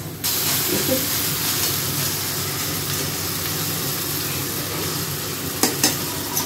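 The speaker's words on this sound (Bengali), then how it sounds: "এবার এই পেঁয়াজের মধ্যে ডালটাকে ঢেলে দেবো" Chana dal poured into browned onions frying in a pan, setting off a sudden loud, steady hiss and sizzle that continues close up, with a couple of brief knocks near the end.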